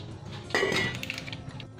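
A metal lid set onto a cooking pot of simmering sopas with pork cubes in a home kitchen, one near clattering clink against the rim followed by a short ringing rattle, no talk.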